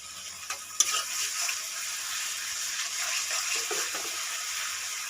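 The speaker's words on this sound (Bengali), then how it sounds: "আদা রসুনটা দিয়ে আমি এটা ক্রমাগত একটু নাড়তে থাকবো, যাতে আদা রসুনটা তলায় লেগে না যায়।" Ginger garlic paste sizzles in a pan with fried onions for chicken kosha, a steady close hiss of frying with scraping stirs and a sharp clack near the start, no voices.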